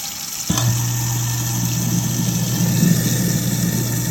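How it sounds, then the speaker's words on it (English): Hot water from a kitchen faucet, tested after a garbage disposal replacement, suddenly gushes on and keeps running in a steady, close, hissing rush with a low hum under it. "So I like to turn on the hot water."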